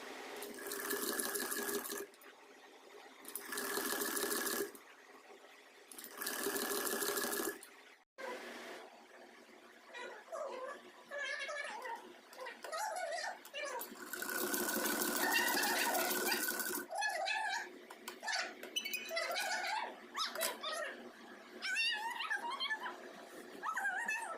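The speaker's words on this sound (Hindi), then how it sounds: "फिर मैं बैठ जाती हूँ मशीन लेकर उस प्लाजो के सही करने के लिए" A sewing machine runs in several loud bursts of rapid mechanical stitching while a palazzo hem is altered, with pauses in between and a dog whimpering and yipping nearby.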